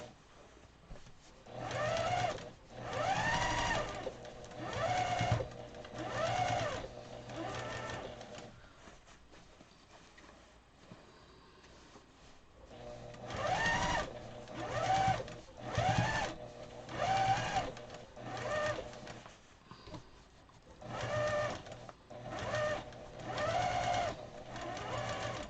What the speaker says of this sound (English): Move all my threads so I don't sew over them.